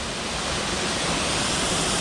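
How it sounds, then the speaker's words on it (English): Longshore Falls, a waterfall just off the Appalachian Trail, pours with a steady, broad rushing roar that stays constant and fairly loud throughout, with no voices. "it's just a beautiful waterfall out here"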